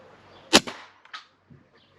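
Snowpeak T-Rex bullpup PCP air rifle firing a 5.5 mm pellet: one sharp, loud crack followed by a short fading tail and a quieter knock as the pellet strikes, with no talking.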